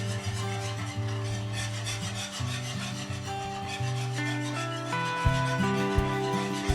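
A whisk scrapes steadily through flour and melted butter in a pot as a roux forms, a continuous rasping, rubbing rhythm up close, with a held musical tone running underneath.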